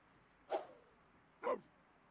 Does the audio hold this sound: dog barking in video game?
yes